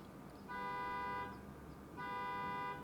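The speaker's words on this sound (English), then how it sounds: "there's someone's car alarm outside" Car alarm going off outside, two bursts of bright tonal wailing separated by a short gap, heard faintly and at a distance over quiet room noise.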